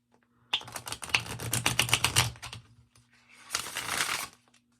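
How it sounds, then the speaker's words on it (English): An autumn-themed deck of playing cards riffled through in two bursts: a long crackling run of quick snapping clicks, a short pause, then a second denser flurry, close and clear. "It's a good deck. And it shuffles good."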